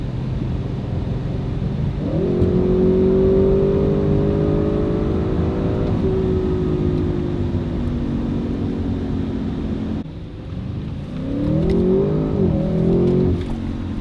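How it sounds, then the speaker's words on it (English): An Audi RS6 wagon's twin-turbo V8 engine roars as it accelerates, pitch climbing steadily, then briefly drops off before revving up again with a deep, throaty growl. "that V8 twin turbo sounds good"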